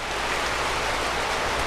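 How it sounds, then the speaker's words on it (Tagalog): A sudden downpour of heavy rain makes a loud, even, unbroken hiss of drops hitting surfaces nearby, with no voices. "Biglang guys, biglang bumuhos yung ulan,"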